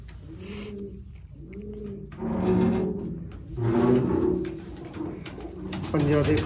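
A Sialkoti pigeon coos repeatedly close by, its rolling throaty calls coming in a series of bursts, with a wooden knock or rattle and some background voices.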